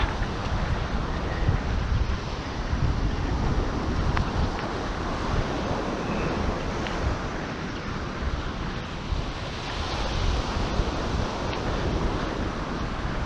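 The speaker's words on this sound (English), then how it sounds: "It's me and the sound of waves." Sea waves washing onto the Suffolk coast in a steady, continuous roar of surf, with wind buffeting the microphone throughout and no voices.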